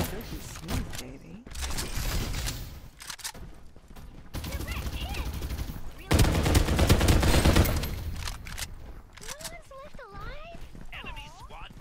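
Gunfire from the Farlight 84 battle royale game, loud bursts and volleys of rapid shots across much of the clip, with game effects and voices in between and a heavy barrage near the middle.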